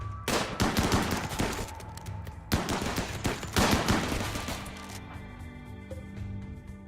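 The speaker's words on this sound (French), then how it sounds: "C'est quoi ça, un fusil à pompe automatique?" Automatic shotgun fire in the video game Rimworld: two loud bursts of rapid, overlapping blasts, separated by a brief pause, followed by a fading tail with scattered faint shots.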